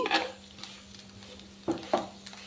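Chicken fry with curry leaves and coriander stirred in a pan, a few scraping spatula strokes and light clinks over a soft sizzle, close and sparse, with no talk.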